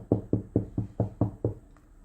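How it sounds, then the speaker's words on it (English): Seven loud, evenly spaced knocks rap on a door in quick succession, close and sharp, each a dull thud, followed by a brief quiet. "So I reached forward and rapped on the door real loud a few times."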